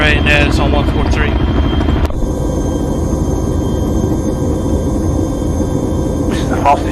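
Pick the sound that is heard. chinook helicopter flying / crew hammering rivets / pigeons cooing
chinook helicopter flying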